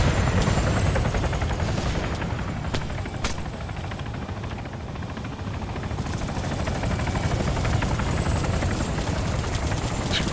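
Hellcat helicopter rotors drone loudly and continuously in the Arma 3 military game, with rapid bursts of gunfire crackling over the steady engine roar throughout.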